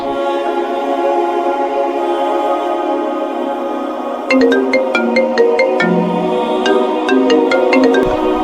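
A mobile phone ringtone plays on and on, a repeating electronic melody that shifts to a brighter, chiming pattern partway through.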